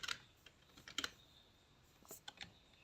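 Keys on a computer keyboard are tapped softly in a few scattered bursts of clicks, faint and close, in a quiet room.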